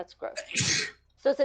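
A single person's sneeze bursts out mid-conversation, brief and close, with people talking just before and after it.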